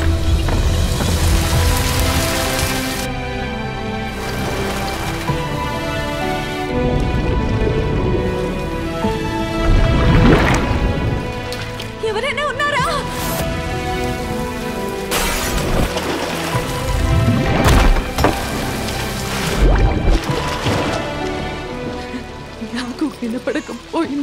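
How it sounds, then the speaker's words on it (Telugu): Heavy rain pours steadily over a city whose roads are flooded, a continuous hiss of drops sustained for the whole stretch beneath loud music. "నగరంలో 2 రోజుల నుండి భారీ వర్షాలు కురుస్తున్నాయి"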